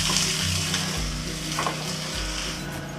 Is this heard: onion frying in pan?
yes